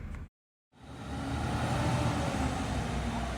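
A concrete mixer truck pulls away from a concrete pour: after a brief silence, a low, steady engine rumble sets in at moderate volume and holds.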